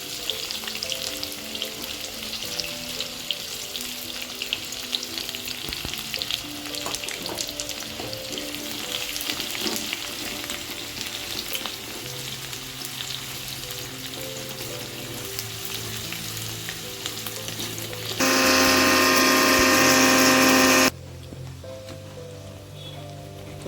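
Onions and whole spices (cinnamon, cloves, mace) frying in hot oil, giving a steady, dense sizzle that carries on throughout and swells into a louder, hissing burst near the end, close-up with no talk.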